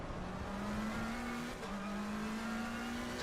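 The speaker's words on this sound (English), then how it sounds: "we've got a late braking Clemente there in the purple Porsche" A Porsche race car in Assetto Corsa Competizione drones at high revs, its engine note climbing, dipping briefly as it brakes and downshifts, then rising again, with other cars and tire noise faintly in the background.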